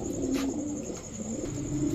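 Gola pigeons at a pigeon seller's stall coo steadily and close by, with low throaty calls running throughout and no talk.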